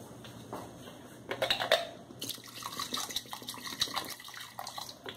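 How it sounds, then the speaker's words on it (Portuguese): Water added to a cooking pot of chicken-feet gelatin: a splashing pour mixed with light metallic clinks of the pot, close and steady for several seconds, with no voices. "Se você achar que é pouca água, você coloca um pouquinho mais e deixa."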